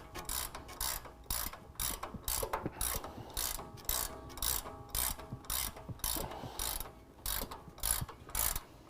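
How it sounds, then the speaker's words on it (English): A 15/16 ratcheting wrench loosens a bolt on a prerunner front bumper, giving rapid bursts of metallic ratchet clicks in short repeated strokes with brief pauses between, close and fairly quiet. "I'm using a 15/16 ratcheting wrench, and I'm just going to loosen that up"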